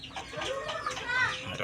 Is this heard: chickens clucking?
yes